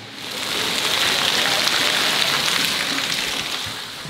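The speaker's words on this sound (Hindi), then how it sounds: "बहुत ही ज़ोरों से हो रही है बारिश" Heavy rain falls outdoors in a steady, dense, loud wash of hissing patter that swells in over the first half second and continues without a break.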